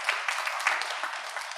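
Applause for the singers and choir at a Tamil Catholic Mass in France, a steady crowd clapping that fills the space with a dense, even patter from start to finish.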